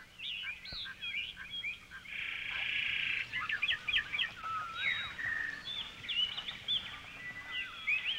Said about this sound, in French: Des fauvettes, des tangaras, des orioles, des gros becs. Leur ramage, comme leur plumage, célèbre la fin d'un autre hiver.